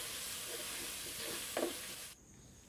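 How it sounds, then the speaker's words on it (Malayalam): Crushed ginger, garlic and green chilli paste is sautéed in a pan, giving a soft, steady sizzle with one brief stirring scrape before the sound cuts off abruptly. "അപ്പോൾ എന്നിട്ടിത് നന്നായിട്ടൊന്ന് വഴറ്റിയെടുക്കണം."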